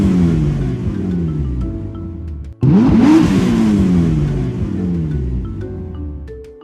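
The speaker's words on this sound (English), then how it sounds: "Vroom, vroom. A car is coming." A car drives past with a loud close engine roar, revving up in pitch after a brief cut, then fading away as it moves off.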